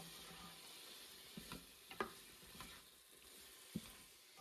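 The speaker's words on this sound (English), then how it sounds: "So I'll just give that a nice stir." Unpeeled potato chunks being stirred inside a Ninja Foodi PossibleCooker Pro, faint soft sizzling under a handful of quiet scraping knocks from the utensil, close by and without speech.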